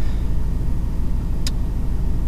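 A Subaru car engine idling, a steady low rumble close to the microphone with one brief faint click partway through and no voices.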